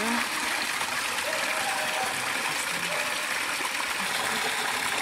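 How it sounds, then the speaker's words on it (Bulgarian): Water runs steadily from a village fountain in Bosnek, a continuous trickling and splashing stream close by with faint low sounds in the background. "тече вода"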